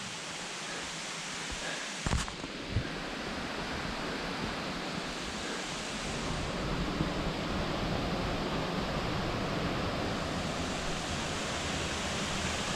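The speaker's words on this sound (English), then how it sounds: "I see a sign here for a waterfall, and I can also hear it" A waterfall in a Colombian valley sends up a steady broadband roar, which grows fuller and louder partway through and then holds as a constant rushing wash with no talk.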